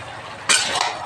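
A spoon scrapes and clatters against a pan while salt is stirred into a shrimp and jackfruit curry, a sudden burst of stirring after a quiet moment, close and fairly loud.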